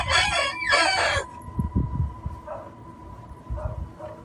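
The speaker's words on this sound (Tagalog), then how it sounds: "Mga manok na mahimik kayo" A rooster crows loudly and close for about a second, followed by scattered clucks and soft calls from chickens against low rustling.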